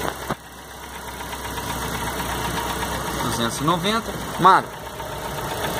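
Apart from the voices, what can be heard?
irregular idle of a 2004 Chevrolet Celta 1.0 engine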